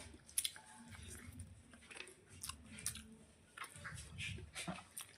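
Close, quiet chewing and soft squishing bites while eating egg curry with gravy, irregular mouth sounds spread across several seconds with no talk.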